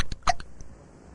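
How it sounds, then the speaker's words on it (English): Cartoon hiccups from a boy with a severe case in a clinic, a few short sharp hiccup bursts close up, the loudest near the middle, then quiet. "This is the worst case of hiccups we've ever treated."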